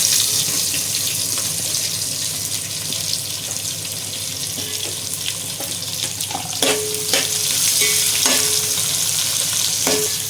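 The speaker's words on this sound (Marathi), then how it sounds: "कांदा पूर्ण गोल्डन ब्राऊन होईपर्यंत आपल्याला परतून घ्यायचं आहे" Onion fries in oil with cinnamon, bay leaf, cumin and cloves, a continuous close sizzle with scraping stirs from a spoon growing more frequent toward the end.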